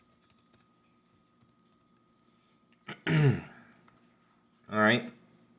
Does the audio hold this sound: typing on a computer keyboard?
yes